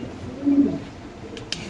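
A pair of Modena pigeons at a breeding farm gives one low, soft coo near the middle, with faint clicks and steady background hiss around it.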